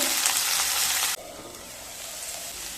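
Potato and bitter gourd fry in oil over a medium-high flame, a loud, steady sizzle that suddenly drops to a quieter, softer hiss partway through, with no voices.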